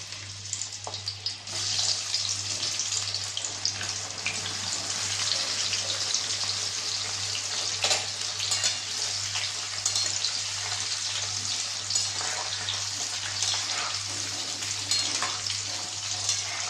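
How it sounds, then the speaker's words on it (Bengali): Sun-dried mango pieces frying in hot oil with fenugreek seeds and dried red chilli for mango pickle, giving a steady, dense sizzle that runs unbroken and fairly loud throughout. "কিছুক্ষণ ভাজবো আমটাকে, তেলের মধ্যেই হালকা সেদ্ধ হতে দেব।"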